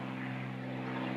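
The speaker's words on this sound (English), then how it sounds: "I didn't realize that there was more airplanes" A propeller airplane drones steadily overhead, a continuous low engine hum with a faint airy rush, holding at an even, moderate level throughout with no one speaking.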